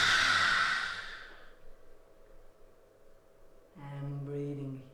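A strong, breathy yoga exhale pushed out with the tongue extended, loud and rushing at the start, then fading into quiet breathing before a voice begins speaking.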